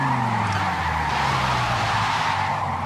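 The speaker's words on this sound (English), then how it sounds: "this is what the tire squeal sounds like in new Forza games" Racing video game tire squeal from a newer Forza title, a continuous loud skidding screech layered over a droning car engine hum, steady throughout without pauses.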